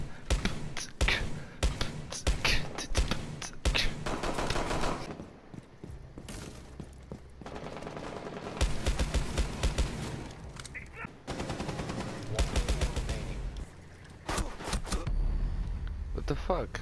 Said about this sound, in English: Now let's add some gunshot sounds.